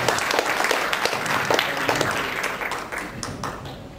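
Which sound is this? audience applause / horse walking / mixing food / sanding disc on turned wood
audience applause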